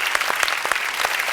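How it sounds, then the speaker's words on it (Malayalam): A festival stage audience claps in a brisk burst of many hands, dense and fairly close, with no one speaking over it. "ഒരു ഉഗ്രം കൈയടി"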